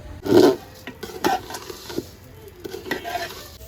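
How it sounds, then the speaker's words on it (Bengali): Rice being stir-fried dry in a pot, a series of spatula scrapes and clinks against the metal with a light sizzle underneath, close and uneven, with no one speaking. "বন্ধুরা চাল অর্ধেক ভাজা হয়ে গিয়েছে"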